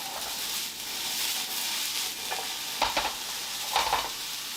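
Pork, onion and potato frying in a pan for mole enchiladas, a steady close sizzle with occasional stirring scrapes rising briefly near the end.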